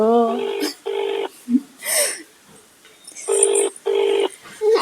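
A telephone call in progress, with a repeating ringback tone sounding in steady, evenly spaced bursts that come through clearly. Short spoken words and brief noises fall into the gaps between the rings.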